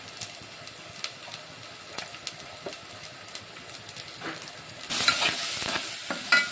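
Ghati masala is stirred in a hot frying pan, light repeated scrapes over a soft sizzle that jumps to a louder, sharper hiss near the end.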